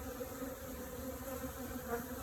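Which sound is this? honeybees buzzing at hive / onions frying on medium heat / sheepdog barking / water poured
honeybees buzzing at hive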